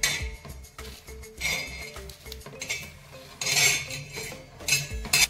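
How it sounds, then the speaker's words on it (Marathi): Roasted coconut being moved onto a plate while making sesame laddoos, with spoons and dishes clinking in several irregular bursts up close and nobody speaking. "हे बघा आपलं खोबरं सुद्धा भाजून झालेलं आहे, ते सुद्धा मी या प्लेटमध्ये काढून घेते।"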